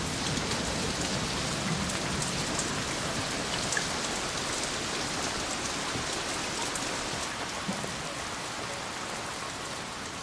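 Steady rain falls on rocks in the Jawai hills of Rajasthan, a dense and even hiss at moderate volume with no voices.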